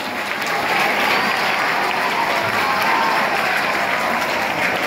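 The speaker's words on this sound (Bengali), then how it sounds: "একটু জোরে হাততালি দাও।" Sustained applause from a gathered audience at a Teachers' Day celebration, loud and steady throughout with a dense crowd texture and no break.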